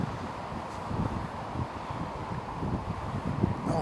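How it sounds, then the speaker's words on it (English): Strong wind gusts outdoors near a public footpath buffet the microphone, making a loud continuous rushing roar with low thumps and no voices. "Oh, it's windy."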